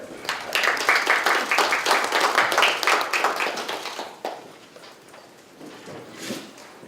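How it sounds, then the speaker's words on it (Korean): Applause from an audience at a Democratic Party supreme council meeting, a dense patter of clapping for about four seconds before tapering off into quieter room noise. "고생 많이 하고 있는데 경의의 박수 한번 해주시기 바랍니다."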